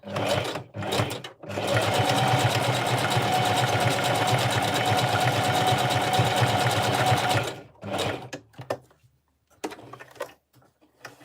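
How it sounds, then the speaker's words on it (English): A sewing machine stitching a wig track runs steadily for several seconds, a fast mechanical stitching buzz, then stops, followed by a few scattered clicks and handling noises. "I'm going to sew the next track"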